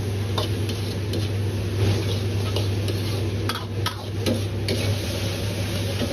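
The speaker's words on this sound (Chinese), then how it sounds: "把丝瓜煸炒至刚好变软，呈这样的翠绿色。" Luffa sponge gourd stir-fried in a wok with no added water gives off a loud, steady sizzle, broken by quick scraping and clinking strokes of the spatula against the pan at an irregular pace.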